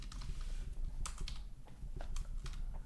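Rapid typing on a computer keyboard, close and fairly quiet, with uneven bursts of clicking keystrokes over a low background hum.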